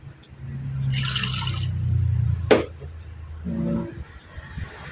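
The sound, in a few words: water poured into cooking pot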